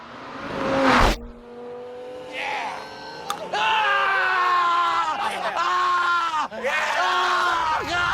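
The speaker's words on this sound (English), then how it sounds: "Listen to him shriek in pain." In the film Jackass 3D, a man shrieks in pain as his teeth are pulled, producing loud, strained, high-pitched wails in repeated bursts over several seconds, with other voices around him.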